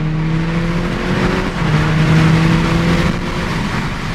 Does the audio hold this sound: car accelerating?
yes